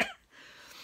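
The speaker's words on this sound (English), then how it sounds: "Sorry, I'm going to cough." A single short cough, close and fairly quiet, bursting at the start and trailing into faint room noise.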